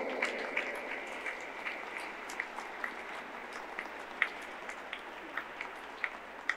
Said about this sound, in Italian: Do il benvenuto con un grande applauso alla professoressa Daniela De Marco.